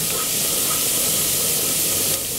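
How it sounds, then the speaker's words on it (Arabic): Vinegar hitting frying garlic in a pan, a loud sharp burst of steamy hissing held steadily for about two seconds before dropping slightly, close and without talk. "ببتدي ان انا انزل عليه بالخل"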